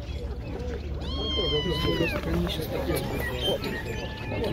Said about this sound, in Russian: Абиссинские котята сегодня есть здесь.